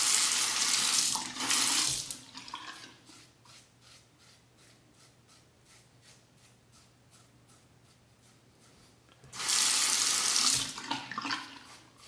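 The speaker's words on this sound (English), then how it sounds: "I find that it rinses better if you let the water flow through from the backside instead of the front." Tap water runs hard into a sink while a razor is rinsed during a shave, with two loud bursts of flow at the start and end and a quieter rhythmic tapping and rubbing between them, close and without talk.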